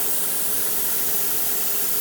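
A cheap airbrush sprays air in a loud, steady broadband hiss that holds constant for the whole stretch, with no voices.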